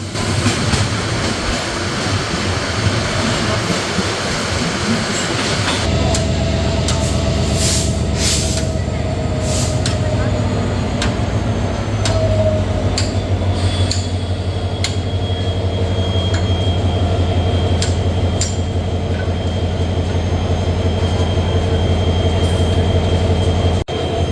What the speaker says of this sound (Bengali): চট্টগ্রাম রেলওয়ে স্টেশনে এসে পৌঁছালাম